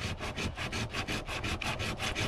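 Hand sanding a SunCure resin repair on a surfboard, a loud close rhythmic rasp of about a dozen even back-and-forth strokes with no talking.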